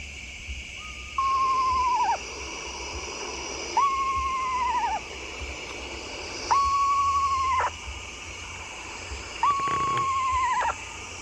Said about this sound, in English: We got three screech owls out here right now.